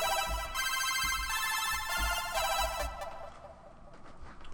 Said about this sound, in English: It's just like, it sounds like a cell phone kind of sound,